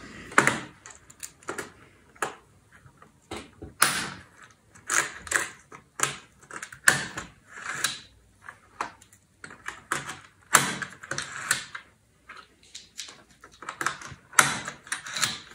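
Electrical terminal blocks are pressed and snapped onto a mounting rail, a long run of sharp plastic clicks and knocks in irregular bursts, close up and with no talking.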